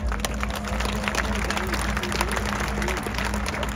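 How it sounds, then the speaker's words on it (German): Crowd applauding at the Moto3 podium ceremony at the Sachsenring motorcycle Grand Prix in 2023, steady outdoor clapping and crowd noise with a faint hum underneath, sustained at moderate loudness. "An das siegreiche Team nochmal Applaus"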